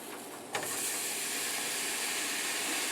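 Jalapeño peppers sizzling as they char on a stovetop, a sudden burst at the start and then a steady, loud hissing sizzle held close up.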